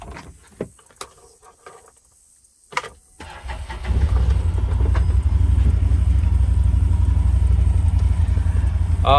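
A UTV engine, a Polaris Ranger XP 1000 or Can-Am Defender Max XT HD10, cranks briefly and fires up, then settles into a steady, close, loud idle rumble after some quiet clicks and handling noises.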